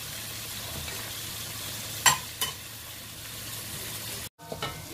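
Siakap fish frying in hot oil, an even steady sizzle close by, with a couple of brief clinks and a short cut near the end.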